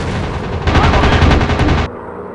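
Warplane guns fire in rapid bursts during an online combat video game, a loud continuous machine-gun rattle that breaks off sharply near the end and leaves a quieter hum.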